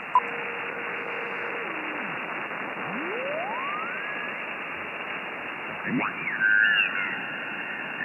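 A ham radio transceiver receives a signal through steady loud static hiss, with tuning whistles sliding up and down in pitch, a brief crackle, and no clear speech.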